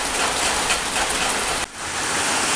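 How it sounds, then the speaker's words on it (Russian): Heavy rain pours down in a dense, unbroken hiss at a summer country dacha, loud and close, with one brief dip partway through. "опять пошел жуткий дождь. Просто одна стена."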